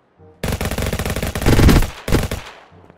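Rapid automatic gunfire from a GTA-style mobile game, Vice Online, comes as a loud, dense burst of shots lasting about a second and a half, then a brief pause and a shorter second burst, with no talking.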